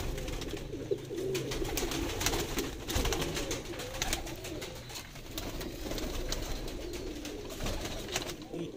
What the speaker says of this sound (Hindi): ये बड़ा तगड़े साइज में कबूतर है